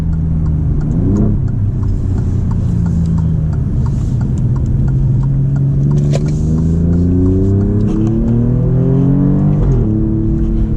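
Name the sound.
sports car accelerating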